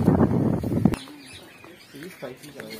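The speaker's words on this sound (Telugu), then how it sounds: "అన్నీ చిలక జాతులకు సంబంధించినవి అన్ని పక్షులు ఉన్నాయి ఇక్కడ." Parrots and other birds call inside an aviary at Indira Gandhi Zoological Park in Visakhapatnam. A second of loud rumbling noise gives way to faint, scattered chirps and low coos at a distance.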